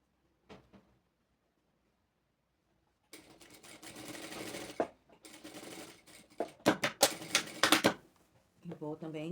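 A home sewing machine runs in several stitching bursts, stopping and starting, as it sews an appliqué patch onto a cloth dish towel, close and fairly loud after a quiet start.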